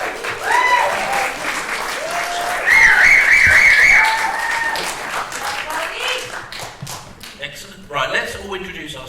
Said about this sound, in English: Round of applause first.